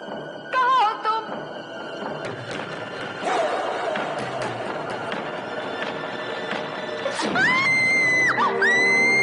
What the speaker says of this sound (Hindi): तुम भी कमाल का चीखती हो